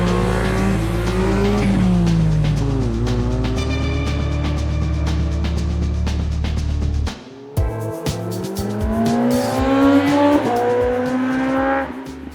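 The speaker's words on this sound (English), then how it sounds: "Ben, my Beat coming up the mountain is quite a blast" A small Honda Beat car climbs a mountain road, its engine revving and changing pitch through the gears, loud and close. A brief lull comes midway before the engine pulls hard again.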